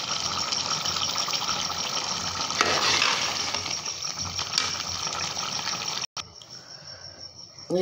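Minced meat fried in a pan with spices and stirred: a steady, bright sizzle runs throughout, broken by scraping stirs and a brief cut near the end, with no talk over it.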